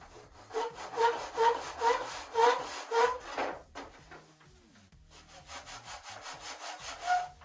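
Balsa wood on a Top Flite P-40E Warhawk model airplane build is sanded in quick rhythmic back-and-forth strokes, a close, soft rasping that pauses briefly and then resumes.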